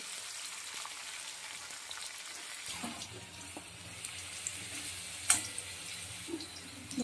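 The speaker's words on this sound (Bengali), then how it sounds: "গ্যাসটা একটু কমিয়ে দিয়ে নেড়ে চেড়ে হালকা লাল লাল করে ভেজে নেব।" Capsicum fries in a pan on low gas while being stirred, a soft continuous sizzle with faint scrapes and clinks, heard alone and fairly quiet.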